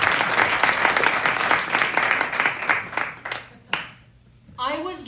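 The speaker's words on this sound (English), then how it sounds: "Another round of applause for Jen" An audience breaks into dense, steady applause, sustained clapping that tapers off near the end, followed by a brief trace of voice.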